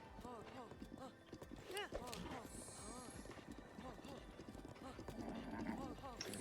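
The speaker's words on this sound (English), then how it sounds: "we're gonna hop on our horse, and then we're gonna make our way to" A horse's hooves clip-clop steadily while riding in Zelda: Breath of the Wild, a brisk, continuous rhythm of close, clear hoofbeats carrying through the whole stretch under game music.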